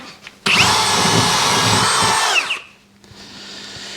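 A power drill bores into garage drywall, running loud and steady for about two seconds before it winds down, with faint quieter hum afterward.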